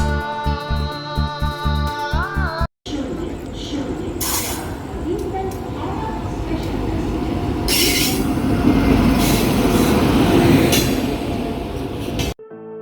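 The Kamrup Express runs along the track with a loud, steady rumble of wheels and carriages, close by, with squealing rails and clatter. A station announcement chime plays at the start.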